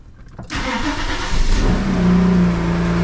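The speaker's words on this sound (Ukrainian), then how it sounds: "Холодний пуск він трошки гучний." An Audi A6 engine cranks and catches on a cold start, then settles into a loud, rough, steady idle that stays elevated as it runs close by.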